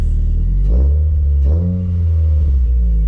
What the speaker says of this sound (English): The noise coming out of the exhaust.